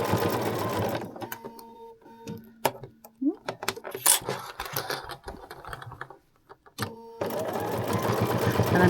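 A home sewing machine stitches a fabric bowl cozy in fast, steady whirring runs, pausing in the middle for clicks and handling sounds as the presser foot is lifted and the fabric turned, then running again.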